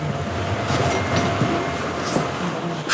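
Subway train running underway, a steady low rumble and rolling noise with faint rail clatter throughout, no voices.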